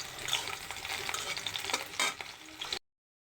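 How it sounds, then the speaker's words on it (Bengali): Green chillies and three garlic cloves fry in a pan for eggplant bharta, giving a steady close crackling sizzle with a few stirring scrapes, which cuts off abruptly near the end. "এখানে আমি কাঁচামরিচ, 3টি রসুন দিয়ে বেগুন ভর্তার জন্য এগুলো ভেজে নিচ্ছি"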